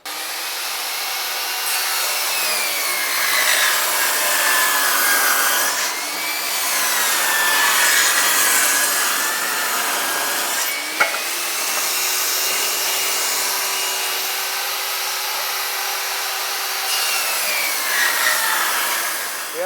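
A power saw ripping wood boards into 1.5-inch-wide ceiling trim, a loud sustained whining cut with slight pitch shifts as the blade moves through the wood, briefly easing between passes, no talking.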